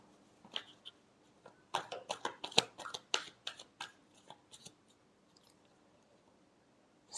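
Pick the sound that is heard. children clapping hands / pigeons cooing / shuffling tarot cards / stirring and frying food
shuffling tarot cards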